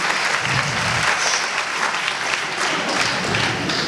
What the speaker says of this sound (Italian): Un applauso a Franco.